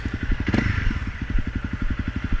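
A Honda CRF250L Rally motorcycle fitted with a skid plate rides through water. Its engine pulses steadily and nearby, with a brief splash and clatter early on.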